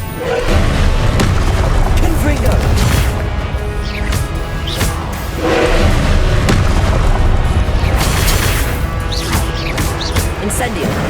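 Repeated booming spell blasts from the Confringo fire spell in Hogwarts Legacy, heavy impacts rolling over constant combat noise with a voice calling out spells.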